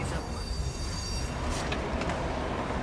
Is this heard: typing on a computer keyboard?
no